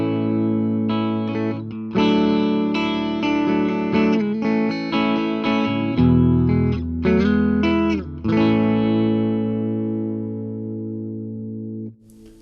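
An electric guitar named Snowy plays in single coil mode with both pickups on, recorded through a microphone, giving a clean tone with slight echo; sustained chords and single notes ring out loudly and alone, ending with a long decaying chord.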